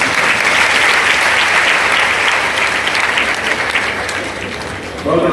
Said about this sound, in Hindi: मेरे लिए नहीं अपने लिए ताली बजाइए।